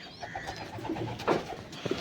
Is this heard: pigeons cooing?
yes